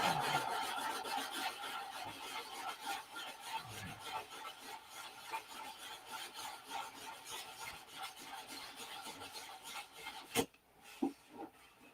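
Steady rasping of sandpaper rubbing back and forth over a dry surface, close up and continuous, ending with a couple of sharp knocks.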